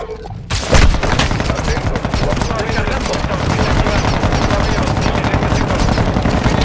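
Rapid, loud automatic gunfire in the video game Call of Duty: Modern Warfare II, a dense continuous burst of shots that starts abruptly and keeps hammering for several seconds.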